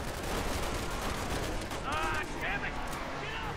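Sustained gunfire in Resident Evil 6, a steady dense barrage of shots rolling under game sounds and agitated voices, with whistling metallic tones rising near the end.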